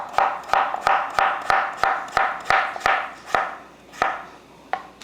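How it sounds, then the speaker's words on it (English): Knife chopping cucumber on a cutting board, about a dozen sharp regular knocks in an even rhythm, close and clear with no voices. "We're gonna cut this up, and I'm just cutting it in half,"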